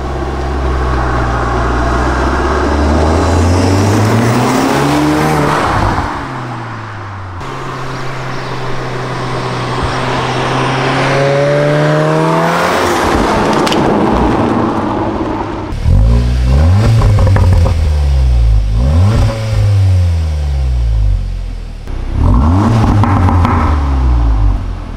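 Audi S3 fitted with a Milltek GPF-back non-resonated exhaust and an OPF/FAP filter, revving up and down loudly near the tailpipe with rising and falling engine tones and some clatter.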